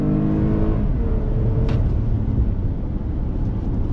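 A 2021 Toyota Highlander XSE accelerating under throttle on twisty roads, its engine heard from inside as a loud, steady droning roar with a rising tone.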